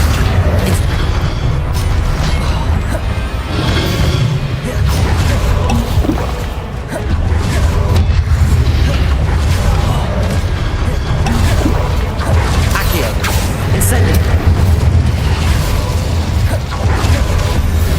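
Spells are cast in the Hogwarts Legacy video game in a steady barrage, with booming blasts, whooshing bursts and mechanical clatter overlapping densely and loudly throughout, broken by brief dips in intensity.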